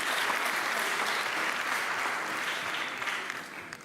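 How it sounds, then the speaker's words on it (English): An audience at the Scifest Africa 2016 opening gala applauds in a steady, even burst of clapping that fills the hall, then begins to thin out at the end. "Let's give him a clap."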